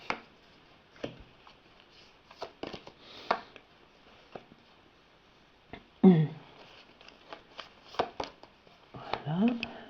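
Playing cards being cut and shuffled by hand in a quiet room, a series of soft riffling and tapping bursts, with a louder shuffle around the middle and another near the end, and no talking.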